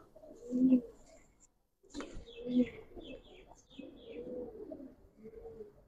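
A flock of Giribaz racer pigeons coos close by in low, throaty bursts, three separate rounds of cooing with soft higher chirps between them and brief pauses.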